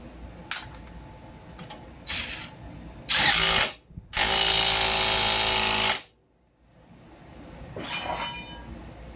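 A power tool tightens bolts on a Honda CR-V suspension, giving two short bursts and then a longer loud whirring run, with clicks and clanks in a quiet garage in between.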